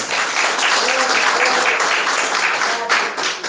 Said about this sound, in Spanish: El aplauso que le das ahora al Todopoderoso